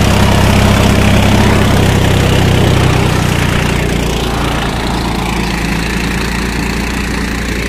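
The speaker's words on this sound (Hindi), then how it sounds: "और दूसरे के हाई में ट्रैक्टर चल रहा है" Swaraj 960 FE 60 hp tractor pulling an 11-tine cultivator in second high gear, its diesel engine droning loud and steady, close by, with a heavy low-pitched rumble and no talk.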